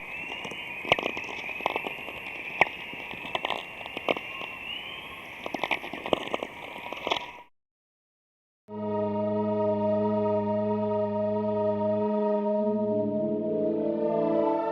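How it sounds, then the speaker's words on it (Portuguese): Aurora radio emissions converted to audio: a crackling, popping hiss with sharp bursts gives way after a short silence to layered, sustained tones resembling a distant, eerie choir. "Satélites captam essas ondas eletromagnéticas e, quando transformamos em áudio, o resultado parece quase um coral distante"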